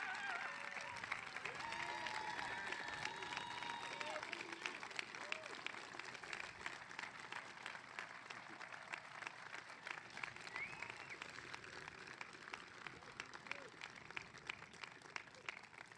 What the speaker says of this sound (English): giving this man a round of applause and a standing ovation